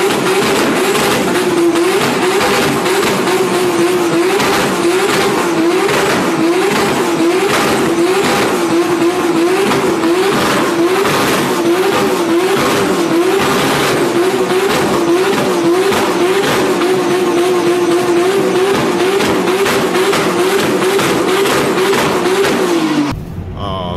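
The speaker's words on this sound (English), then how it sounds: "to do burnouts and shoot fireballs" A 2JZ-swapped Subaru doing a burnout, its engine held high and revving hard with tires squealing continuously for over twenty seconds, loud and close, before the revs drop off at the end.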